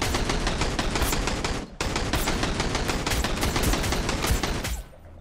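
Sustained automatic gunfire in the survival game Sunkenland, a loud, close, rapid stream of shots with one brief break partway through, then an abrupt stop near the end, with no talking over it.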